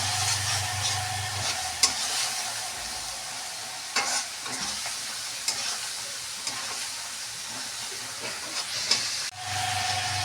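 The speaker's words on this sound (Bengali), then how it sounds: "আমি এবার চিকেনটাকে ঢেলে দিলাম। চিকেনটাকে ঢেলে দিয়েছি, আর মশলাটা কষানো হয়ে গেছে।" Chicken pieces sizzle steadily as they fry in oil with spiced masala in a pan, under a constant close hiss with occasional sharp stirring knocks and a brief quieter pause near the end.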